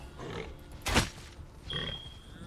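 A pig grunts in the video game Rend, a short burst of a few rough low snorts at moderate distance, followed by a fainter second grunt.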